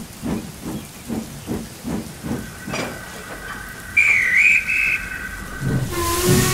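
A steam locomotive whistle sounds midway, a wavering high tone that holds for about a second, over rhythmic chuffing and hissing steam.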